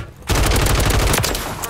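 Rapid SMG fire in the video game Warzone 3: a loud, continuous automatic burst kicking in after a brief lead-in and rattling steadily for about a second and a half.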